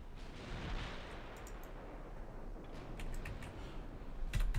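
Naval guns in the Ultimate Admiral Dreadnoughts game fire on an enemy battleship: a dense wash of distant, muffled rumbling booms with a few sharper cracks near the end, and no voices.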